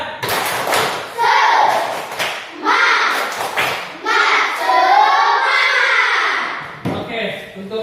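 A class of children claps and chants a rhythmic group cheer in a classroom before a lesson, with loud bursts of claps and sharp thumps among overlapping young voices chanting together.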